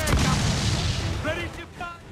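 Warship cannons fire in Assassin's Creed IV: Black Flag as a loud, heavy boom opens the moment and rolls into rumbling blasts, with voices shouting over the battle.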